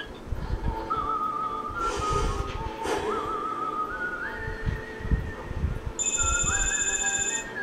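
A phone rings in the video game inFAMOUS 2, a thin electronic tone that repeats and steps in pitch over low background game ambience, moderately loud and alone.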